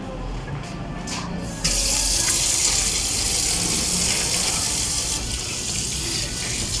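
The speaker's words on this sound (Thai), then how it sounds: "โอเคขั้นตอนต่อไปเราจะเริ่มล้างน้ำกันเลย" Tap water gushes into a sink as a freshly tie-dyed shirt is rinsed to wash out excess dye, the flow starting softly then turning into a loud, steady rush close by.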